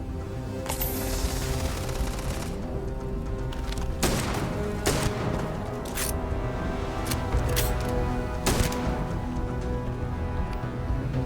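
Firefight in the space game Starfield: steady background din punctuated by several loud, sharp shots and a heavy boom, spaced irregularly over several seconds.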